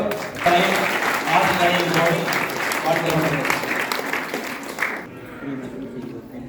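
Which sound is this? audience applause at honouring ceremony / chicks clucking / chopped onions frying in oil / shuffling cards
audience applause at honouring ceremony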